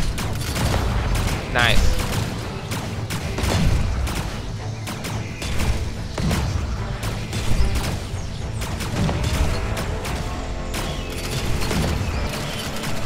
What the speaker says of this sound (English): The pulse rifle is so good.